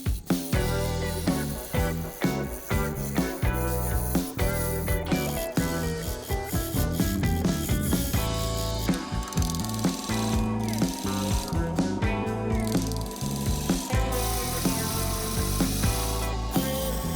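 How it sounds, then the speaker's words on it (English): A wood lathe turns a crab apple log, with continuous rough chattering and scraping of the tool against the spinning wood, loud and close, carrying irregular knocks and bursts as the cut bites unevenly. "With each careful pass of the lathe, the log's form evolves, showcasing the wood's unique grain."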